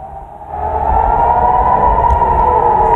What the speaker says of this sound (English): the terrifying sound of an air raid siren